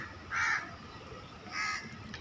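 Two harsh caws from a crow, spaced about a second apart, come from a little way off over quiet background hum near a large flock of pigeons.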